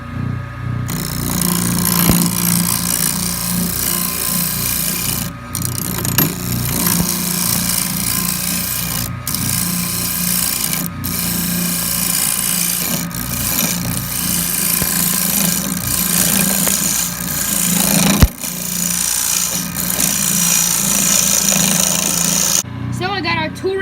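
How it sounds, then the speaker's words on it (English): A scraper rides over the outside of a spinning wooden bowl on a lathe, producing a continuous loud rasping, rubbing drone with a steady motor hum and brief breaks where the tool lifts off. "Probably going to go over with the scraper just to get a nice smooth cut."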